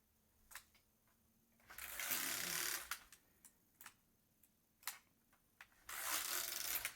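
A Brother KX350 knitting machine set to hold for short rowing makes two long rushing carriage passes, with faint clicks and taps of needles being moved between them, quiet and close.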